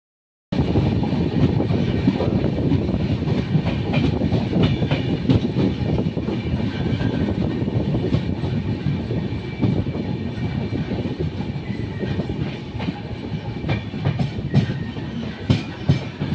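The Pandian SF Express runs on the rails toward Villupuram, heard from on board as a loud, continuous rumble with rhythmic clickety-clack from the wheels and rattling carriages throughout.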